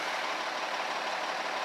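City of Boston snow plow truck engine idling, a steady, close rumbling drone with no change in pitch over a short stretch.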